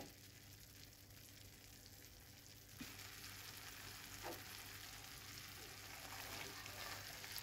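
Faint steady sizzling of chopped onions frying in oil in a pan, with a brief clatter as something is stirred partway through.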